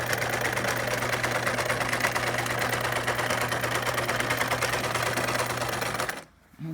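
A sewing machine top stitches along a fabric strip in one steady, continuous run of fast, even stitching, close and clear, stopping abruptly just before the end.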